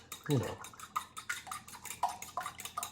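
Two eggs whisked in a bowl with a fork, a quick run of rhythmic light clicking and tapping against the bowl, close and fairly quiet, following an initial louder clatter.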